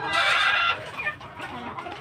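A pure-white Kelso chicken, a hen kept near her chick, gives a loud, close cluck, then a few softer, scattered clucks follow.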